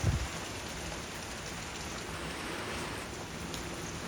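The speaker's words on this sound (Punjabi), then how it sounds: "ਲੈ ਬਈ ਹੁਣ ਫੇਰ ਤੇਜ਼ ਮੀਂਹ ਹੋ ਗਿਆ" Heavy rain pours down in a dense, even hiss, steady and unbroken, with no voices.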